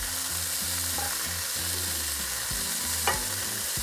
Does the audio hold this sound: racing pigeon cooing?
no